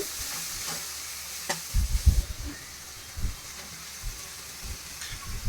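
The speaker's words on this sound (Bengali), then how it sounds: "এখন হচ্ছে পেঁয়াজ আর মশলা একসাথে ভেজে নিয়েছি" Onions and spices sizzle and hiss in a hot pan while a utensil stirs and scrapes now and then, with no talking.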